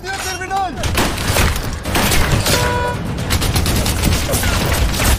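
Gunfire crackles through a Russian war film scene, dense bursts of shots and booms layered over a film score and shouting voices for about five seconds.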